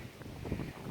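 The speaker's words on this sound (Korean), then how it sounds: "시원한 바람이" Cool wind blowing across a forested mountain trail near the summit, a steady low rush of breezy buffeting against the microphone, moderately loud and continuous, with no talking.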